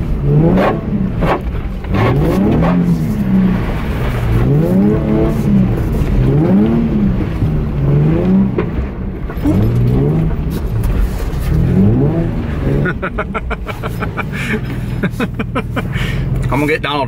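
A Nissan 350Z or BMW 3 Series drifting in a grassy field, its rough-sounding engine revving in repeated rising and falling surges, loud and close from inside the car, with people talking over it.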